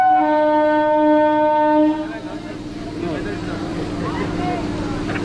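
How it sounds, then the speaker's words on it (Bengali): A Sealdah–Namkhana local passenger train sounds a long, loud horn for about two seconds, then its carriages keep up a steady rumble and clatter as it runs past. "দেখুন এটা হচ্ছে নামখানা লোকাল,"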